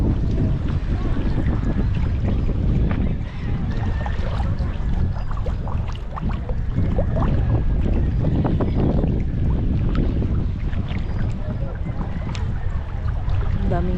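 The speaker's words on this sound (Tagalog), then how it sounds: "Grabing bagyo to mga idol." Strong typhoon wind roars continuously and loudly, with deep rumbling gusts and buffeting throughout and no letup.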